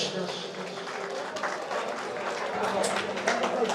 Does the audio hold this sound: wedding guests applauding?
yes